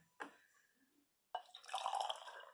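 Water is poured into a cup for a rainbow-in-a-jar experiment: a brief splash, a pause, then a steady, close, trickling rush that runs to the end.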